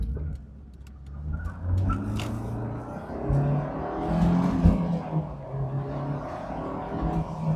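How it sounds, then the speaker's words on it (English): A Honda S2000 engine hums and revs from inside the cabin, rising and dropping in pitch as it shifts up through the gears. "Rowing through the gears, this thing just feels so good"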